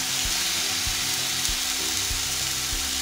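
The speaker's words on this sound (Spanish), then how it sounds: "Voy a echar el tocinito. El tocinito suelta su propia grasita." Bacon sizzling in a small frying pan, a dense continuous crackle and hiss of fat spitting steadily throughout, close and fairly loud with no voices over it.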